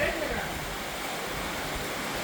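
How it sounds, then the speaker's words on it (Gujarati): Rainwater rushes down into a makeshift pool during rain, a steady broadband wash of flowing water, close and continuous, with wind mixed in. "તો ગાઈસ જો બધું પાણી અહીંયાથી નીચે જાય રહ્યું"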